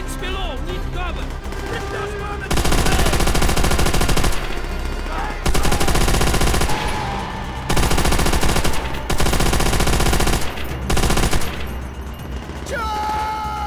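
Gunfire in Call of Duty: World at War, a video game on the Russian campaign: loud, sustained machine-gun bursts in long stretches separated by short gaps, with shouting voices in between.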